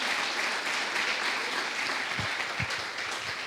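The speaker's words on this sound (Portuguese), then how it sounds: "Você pode celebrar a Deus por isso nessa noite, aplaudindo o nome dEle" Steady applause from a church congregation during an evening worship service, a dense wash of clapping throughout with a few low thumps or voices near the end.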